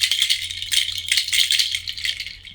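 A shaker bracelet rattles continuously for a few seconds. The shaking is bright and dense, with pulsing strokes close up.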